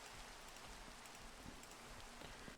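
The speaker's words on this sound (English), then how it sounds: "here comes the rain as well" Steady rain falling in the blocky survival game Minecraft, a soft continuous hiss with faint scattered drops, quiet and even throughout, no talking.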